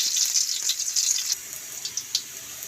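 Garlic frying in a pan for adobong kangkong, a bright crackling sizzle with small pops, fairly close and moderately quiet, with no talk.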